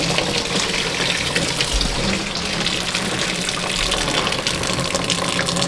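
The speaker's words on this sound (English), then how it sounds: "Yep, something's draining out." Coolant draining from the radiator of a Toyota FJ40 during cleanup, a steady close rushing, gushing flow of liquid that holds even and loud throughout with no talking.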